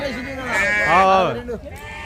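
A sheep bleats once in a long, wavering cry, close by, with voices talking around it at the weekly sheep market in Gudur.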